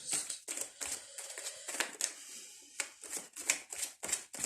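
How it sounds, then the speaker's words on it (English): Tarot cards are shuffled in quick, crisp bursts, a series of riffling flutters with short pauses between them, close and soft. "Just let me give them an extra shuffle."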